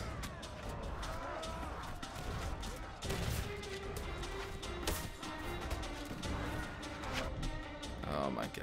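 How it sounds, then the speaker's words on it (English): Musket or gun volleys from gunners in the video game Mount and Blade, Warsword Conquest mod, scattered shots within a dense, noisy battle din. "Come on, gunners. Shoot them in the face."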